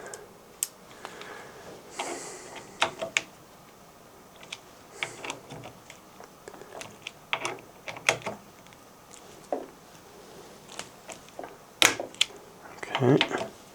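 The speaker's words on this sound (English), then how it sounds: "I'm going to go ahead and make sure the base is tightened up to its 30-pound spec." The scope mount base on an HK MR556 rifle is tightened to a 30-pound spec. Scattered small metallic ticks and clicks sound up close at uneven intervals, with a faint voice in the background.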